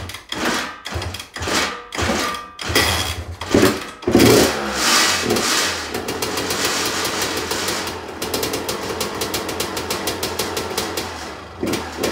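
A few sharp kick-start strokes, then a motorcycle engine catches and idles with a rapid, steady putter, revving up and down.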